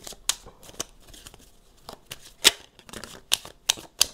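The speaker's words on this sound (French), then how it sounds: "on va tirer quelques cartes" Tarot cards are shuffled and drawn close by, giving sharp, irregular slaps and flicks with quiet rustling between them.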